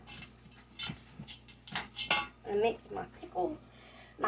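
Pickles, chopped eggs and tuna being mixed in a bowl with a utensil, heard as scattered clinks and scrapes against the dish, with a voice talking over it.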